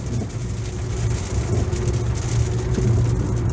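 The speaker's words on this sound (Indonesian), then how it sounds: "Ini lagi hujan nih." Rain falls steadily on a moving car in traffic between Tangerang and Jakarta, with a constant hiss of drops over low engine and road rumble heard from inside the cabin.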